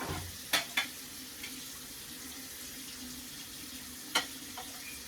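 Cucumbers are rinsed under a running kitchen tap, giving a steady faint water hiss with a few sharp splashes and clatters of handling; no talking.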